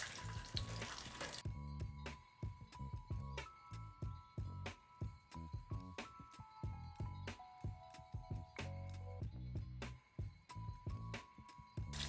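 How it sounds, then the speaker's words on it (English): Shallot frying in hot oil for roselle fried rice with crab and mushroom: a steady, close sizzle full of rapid crackles and pops, with occasional clinks, running without speech. "So first I'm going to put my shallot into the oil."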